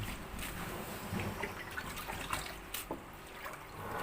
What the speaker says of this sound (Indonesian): Ini saya tiriskan dulu.